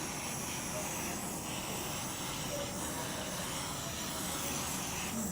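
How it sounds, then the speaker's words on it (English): A handheld torch heats an acrylic paint pour, giving a steady, close, continuous hiss and roar that holds an even level throughout. "You don't want to bring the torch too close because you don't want to burn the paint"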